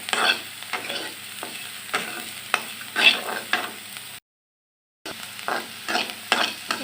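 Lentils crackle and pop while being dry-roasted in a pan without oil, with close scraping stirs in an uneven rhythm and one brief silent break.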